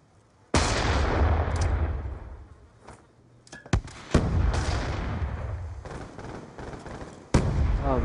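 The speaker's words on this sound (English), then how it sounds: "the fucking nade flew out of the map" Explosive booms and blasts in a Search and Destroy match of a first-person shooter, a loud burst at the start, then a sharp crack and further heavy impacts, with no talk over them.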